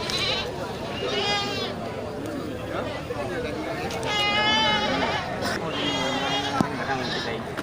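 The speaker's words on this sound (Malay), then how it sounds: "kondisi kambing ya untuk persiapan kambing kurban." Goats bleat repeatedly at a livestock market where goats and sheep are sold for Qurban sacrifice, several wavering cries rising over a busy background of chatter and talk.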